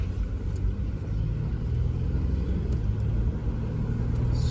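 A GMC Acadia on a test drive after a traction control and StabiliTrak fault, with a steady low road rumble and engine drone close inside the cabin and no talking.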